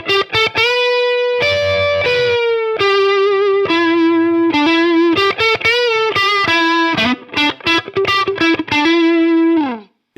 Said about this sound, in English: So I think the neck pickup position might be my favorite sound from the guitar.